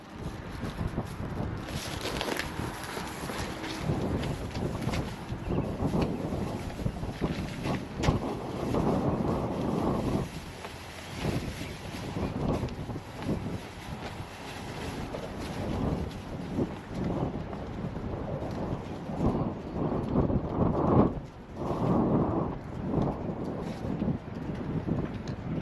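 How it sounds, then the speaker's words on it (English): Strong outdoor wind roars and buffets the microphone without letup for the whole stretch, loud and gusting in surges, during a long walk along a city subway route. "There's like a crazy amount of wind right now."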